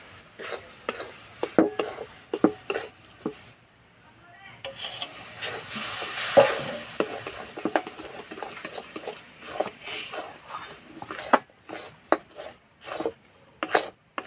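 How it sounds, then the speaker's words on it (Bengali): Spoon stirring a jackfruit juice mixture in a pan while making jackfruit naru, with scraping clinks against the pan and a soft hissing sizzle in the middle, and someone talking intermittently over it. "এবারে অল্প অল্প করে কাঁঠালের রস দেবো আর নাড়বো।"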